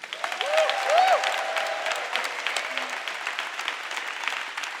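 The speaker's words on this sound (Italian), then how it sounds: "Applauso." Studio audience applause at the opening of an Italian comedy talk show episode, a steady wash of clapping lasting the whole stretch, with a voice briefly calling out near the start.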